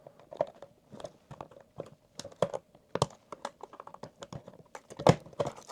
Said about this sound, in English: now I can unclip the circuit board.